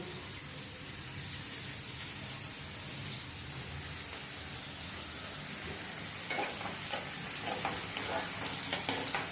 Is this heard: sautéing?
yes